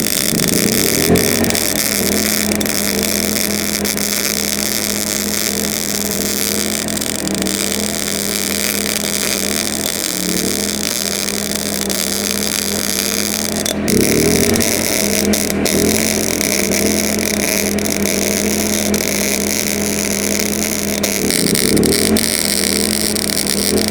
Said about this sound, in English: So from me to the generator on eco mode, it was only 65 dB.